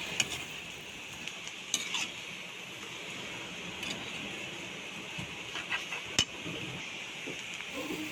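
Vegetables for chop suey are stirred in a pan, a soft continuous sizzle with intermittent utensil scrapes and sharp metallic clicks against the pan, fairly quiet and without talk.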